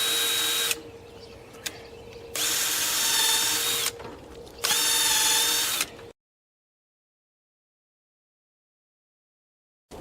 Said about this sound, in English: I'm going to drill it at a very, very slight downward angle.